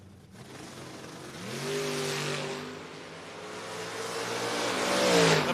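A 1972 Plymouth Duster and a Dodge Dart drag racing: engines rise in a loud, rising roar as they accelerate down the strip, with no talk over the sound.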